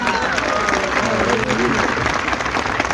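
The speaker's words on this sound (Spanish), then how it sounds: "Un fuerte aplauso para él." Applause from a church audience welcoming a non-Catholic guest, a dense steady wash of clapping filling the whole stretch at even loudness.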